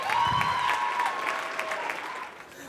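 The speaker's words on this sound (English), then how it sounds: "Please give him a warm round of applause." Applause from an audience at a student follies show greets a magician, a moderate wash of clapping that lasts a few seconds and fades, with a steady tone sounding through it.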